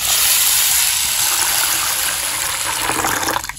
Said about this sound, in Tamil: இப்போ ஊற வைக்கிறதுக்கு தண்ணி சேர்த்துக்கலாம்